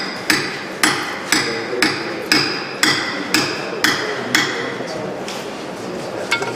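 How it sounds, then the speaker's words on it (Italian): A hammer is dropped repeatedly onto a part during reassembly of an F12 engine: about a dozen sharp metallic strikes at a steady pace, each ringing briefly, loud and close. "Fai proprio cadere il martello che ha il suo peso posto."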